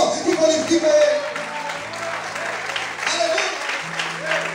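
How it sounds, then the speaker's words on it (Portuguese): Church congregation applauding during a Portuguese-language evening sermon, steady clapping that fills the room throughout, with a voice speaking or singing over it. "Aplauda o Senhor e glorifica Ele."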